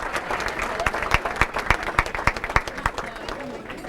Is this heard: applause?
yes